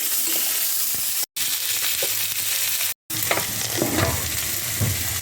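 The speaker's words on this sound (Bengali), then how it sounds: "পেঁয়াজটা দিয়ে একটু ভালো করে ভেজে নেবো" Chopped onion frying in spiced oil with cardamom for an egg and potato pulao, a steady loud sizzle with occasional stirring scrapes, close by, with two brief dropouts and no talking.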